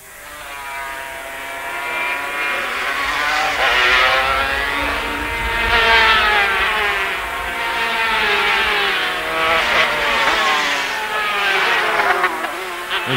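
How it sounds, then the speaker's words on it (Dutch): Small, fast racing karts from a field of around sixty buzz past on the Zandvoort circuit in 1984, their high whining engines swelling and fading in repeated passes, loud and steady with no talk. "zo'n groot veld van die kleine vinnige karretjes voorbij ziet gaan met dezelfde snelheden als die automobielen"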